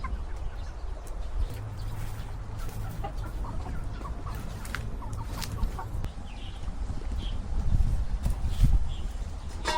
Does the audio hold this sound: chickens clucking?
yes